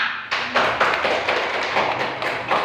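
A group of people, likely a classroom, claps hands together in quick rhythmic bursts, fairly close and loud, with no talking.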